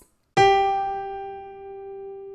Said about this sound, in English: if I was to play a G on my piano like this,